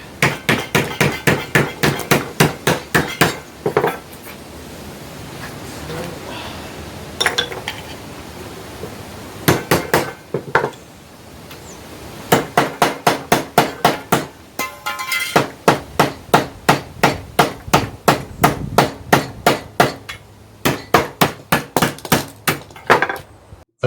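Metal hammered on the corner of a workbench: long runs of rapid, evenly spaced ringing blows, loud and close, broken by short pauses and brief handling noise, no voices.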